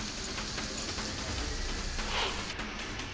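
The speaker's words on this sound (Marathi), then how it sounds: "लोणावळ्यामध्ये पावसाचा जोर कायम आहे. मुसळधार पावसानं पर्यटकांना चांगलं झोडपून काढलं." Heavy rain pours down in Lonavala as a steady, dense hiss of falling water that fills the whole stretch evenly, with no voices over it.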